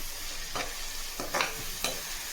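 Sliced onions and ginger-garlic paste fry in a hot pan for a prawn and gongura curry, giving a steady bright sizzle broken by three brief scraping stirs, with no talking.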